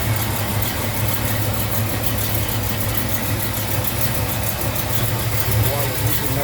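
A car engine with a newly installed serpentine belt setup idles steadily and loudly up close, a continuous low rumble with a faint whine throughout.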